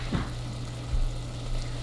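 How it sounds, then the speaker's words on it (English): Onions sauteing in a Le Creuset pot, a soft steady sizzle over a low hum, broken by a few brief stirring scrapes and thumps, fairly faint with no voices. "We're gonna saute this until the onions are translucey-goosey."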